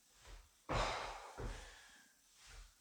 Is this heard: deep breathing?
yes